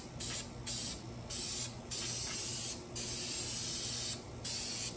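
Plasti Dip aerosol sprays onto a Buell XB9SX motorcycle part in five or six short bursts, close bright hissing separated by brief pauses.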